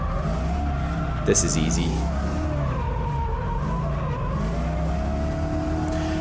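A V8 drift car slides around a track with a steady low engine roar and drawn-out tire squeal, one sharp burst partway through, while someone talks over it.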